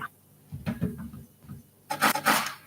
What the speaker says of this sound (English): Yeah, I think I'm gonna grate them.